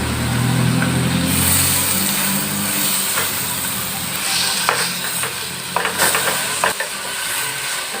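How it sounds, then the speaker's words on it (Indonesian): Meat frying and being stirred in a pan, a steady sizzle with scraping and clinking stirring strokes growing more distinct toward the end. "Kita aduk sampai daging mulai berubah warna macam ini."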